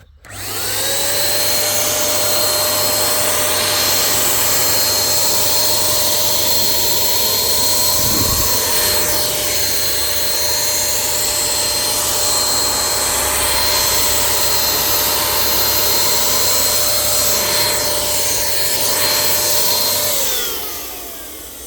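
A WAGNER W510 paint spray gun sprays oil paint onto a shipping container, giving a loud, steady motorized hiss and whine that runs without a break for about twenty seconds before cutting off.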